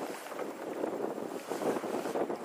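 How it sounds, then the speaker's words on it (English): Wind rushes steadily over a small fishing boat anchored at sea in the fall, a loud, continuous blustery roar buffeting the microphone with the water around it. "The wind's blowing"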